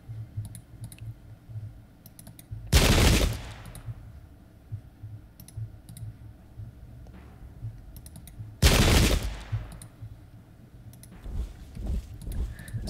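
Two loud, sharp volleys of musket fire from troops in a Pike and Shot battle burst out several seconds apart, with faint clicking and distant crackle in between.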